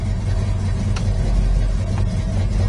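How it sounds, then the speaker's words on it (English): A 1967 Pontiac GTO engine idles steadily just after being started, a constant low rumble with faint interior clicks and no one speaking. "We just turned the car on"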